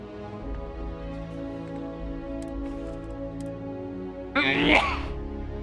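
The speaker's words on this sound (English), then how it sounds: "I'm sneezing." A single sudden sneeze bursts out near the end over a steady low electronic hum and faint ticking.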